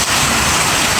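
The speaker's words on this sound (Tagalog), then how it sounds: "Grabe yung ulan." Heavy rain pours down in a dense, steady hiss that fills the whole moment, loud and unbroken with no voices over it.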